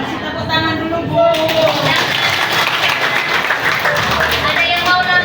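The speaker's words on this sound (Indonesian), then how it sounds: "Masih tepuk tangan dulu Bu." A group of children in a classroom clap their hands together in a sustained, dense burst of applause while adult voices talk over it.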